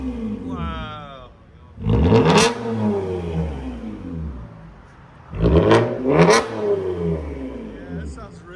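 A 2020–2024 Toyota Camry TRD 3.5L V6 fitted with a straight-pipe exhaust is revved twice, each a loud, raw roaring burst rising and falling back to a rumbling idle, with a brief voice at the start.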